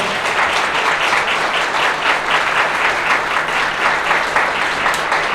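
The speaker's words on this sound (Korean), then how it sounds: "큰 박수로 함께 축하해 주십시오" Wedding guests in a hall applaud steadily after the couple are declared married, a dense, even wash of many hands clapping close by, with no talk over it.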